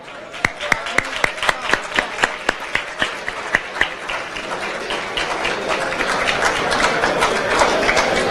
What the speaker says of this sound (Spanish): Fuerte el aplauso nuevamente.